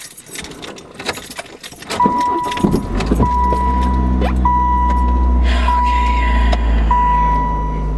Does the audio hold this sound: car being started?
yes